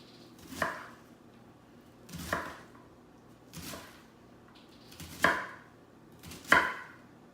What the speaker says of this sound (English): neatly diced onion